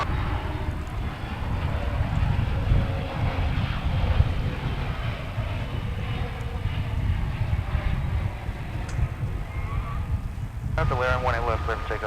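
A jet takes off at DFW International Airport, its deep engine roar rumbling steadily throughout, with a voice speaking briefly at the end.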